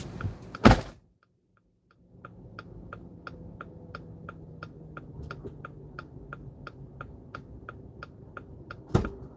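A car door opens with a sharp thump for an arriving rideshare passenger, then a quiet gap gives way to steady cabin hum with a regular faint ticking, like a turn signal, and another thump near the end.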